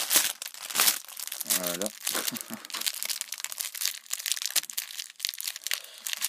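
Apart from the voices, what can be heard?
plastic wrapping crinkling while opening a poster package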